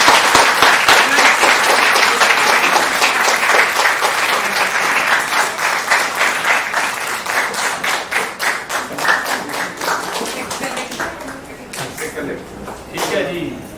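An audience at an annual art camp and exhibition claps loudly and steadily, the applause gradually breaking into rhythmic, uneven claps that fade toward the end, with voices underneath.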